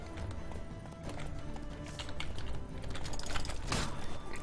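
Horse hooves gallop in The Witcher 3 video game, a steady rapid clip-clop that swells in loudness over several seconds amid game ambience.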